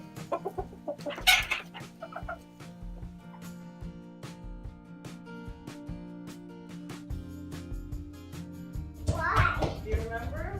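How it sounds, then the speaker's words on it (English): Partridge Wyandotte bantam chickens cluck softly and steadily amid a busy backyard setting, with a louder burst of calls near the start and again near the end, and a voice audible in the mix. "Wyandotte Partridge Bantams is what these are."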